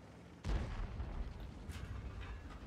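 A tank cannon shot in the World of Tanks video game, one sharp loud boom followed by a long rumbling low tail, with fainter distant shot noises trailing behind.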